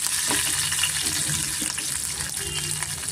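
Curry leaves and green chillies frying in hot oil for mutton sambar, a dense continuous crackling sizzle close by with occasional pops, no talking.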